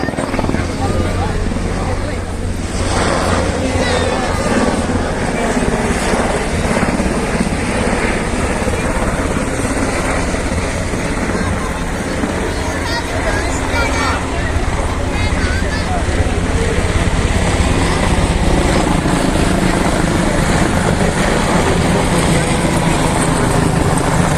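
A military helicopter hovering at an army exercise, its rotor droning loudly and steadily throughout, a dense continuous roar with no pauses.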